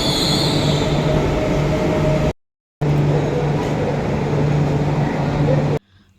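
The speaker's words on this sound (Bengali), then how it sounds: "তো ট্রেনটা আসছে বোধ হয়। এই দেখো ট্রেন।" A train pulls into the first platform at Kavi Subhash station in Kolkata, with a continuous heavy rumble and a sustained wheel whine. The sound cuts out briefly partway through, then carries on close and loud.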